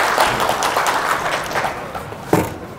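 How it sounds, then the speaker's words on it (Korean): An audience claps for a presenter at the close of a Python talk session, a moderate patter that thins toward the end, with one sharper knock near the finish. "발표해 주신 조언님께 다시 한번 큰 박수 부탁드립니다."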